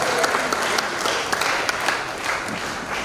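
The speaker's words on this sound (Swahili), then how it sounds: "Mpigie makofi." Enthusiastic audience applause from a church congregation: dense, steady clapping that stays loud and even for about three seconds, with no pauses.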